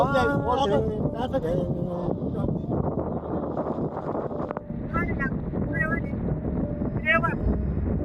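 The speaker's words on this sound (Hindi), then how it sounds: "इतना जोर जोर से हवा चल रहा है" Strong wind buffeting a microphone during a Royal Enfield Meteor 350 motorcycle ride in rain near Khopoli and Lonavala, a constant loud rushing roar with voices talking over it.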